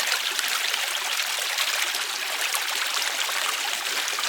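Fresh mountain water pours and splashes continuously while carrots are washed in it at a secluded forest spot in Kodaikanal, a steady close hiss with no voices.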